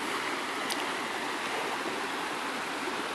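Water pours steadily over a beaver dam waterfall in Trinidad, Colorado, a continuous close rushing wash that stays even throughout, with no voices.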